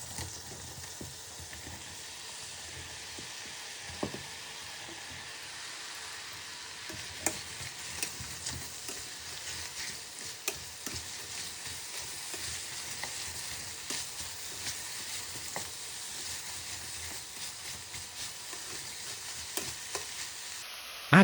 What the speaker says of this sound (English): Heat a large knob of butter and olive oil in a large saucepan over a medium heat. Add the sliced onions.